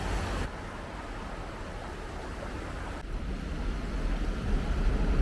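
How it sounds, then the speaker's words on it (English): Continuous rushing water near Alaska's Matanuska Glacier roars steadily, a broad wash of noise that swells slightly louder toward the end, with no voices. "Listen to that water"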